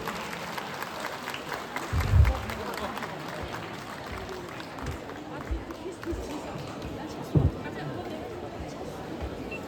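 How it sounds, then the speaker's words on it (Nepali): A crowd applauds at an outdoor Himalayan celebration of the Dalai Lama's 90th birthday in Darjeeling, a continuous patter of clapping with a couple of louder thumps, while voices carry over it. "जोरदार तालीको साथमा उहाँलाई सुस्वागत जनाइदिनुहोस्"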